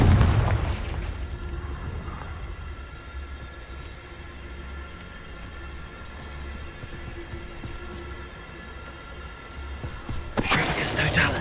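Confringo spell in Hogwarts Legacy gameplay, a loud booming explosion at the start that decays into a low rumbling hum, then a sharp burst near the end, with game voices around it.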